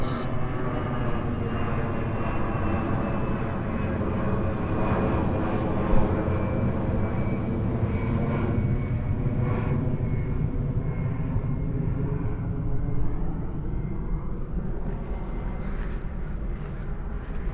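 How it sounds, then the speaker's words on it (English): An airplane passes over near an airport beside a botanical garden, a loud, steady jet roar that fills the whole stretch and shifts slowly in pitch as it goes by, with no one talking over it. "we are next to an airport, so that will explain all the airplanes"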